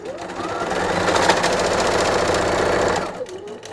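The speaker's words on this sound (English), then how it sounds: "I turn this around and I can go on sewing." A sewing machine stitching on paper runs steadily with a dense, rapid mechanical chatter for about three seconds, close and loud, then stops.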